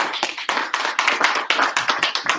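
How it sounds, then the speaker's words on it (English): Hands clap after a lecture, sounding as a loud, close, ragged run of individual claps with uneven rhythm rather than a dense crowd wash. "Big round of applause again."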